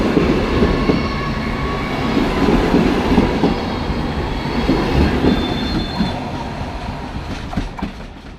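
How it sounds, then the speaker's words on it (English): A sleeper train to Kyiv, Ukraine, rumbles steadily along the rails with a dense low roar, faint wheel squeals and rhythmic clatter, loud and close, without any voices. "This train will continue to Kołobrzeg at the Baltic Sea coast in northwestern Poland."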